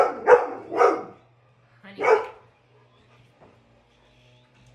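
A dog barks indoors at home: three sharp, close barks in quick succession, then quiet, with a person's brief spoken word between them.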